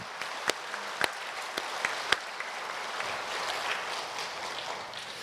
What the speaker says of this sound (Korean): 다시 한번 하나님께 영광의 박수하겠습니다.